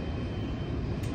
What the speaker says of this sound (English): Plane.